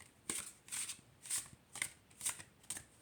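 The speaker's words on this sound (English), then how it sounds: "Hand shuffle." Someone hand-shuffles an oracle deck, the cards riffling in six quick crisp bursts at a steady rhythm, close and fairly quiet with no talking.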